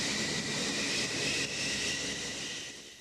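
An F-14 Tomcat supersonic jet fighter in flight, a loud continuous broadband roar with a steady high whine, close and sustained before easing slightly at the end.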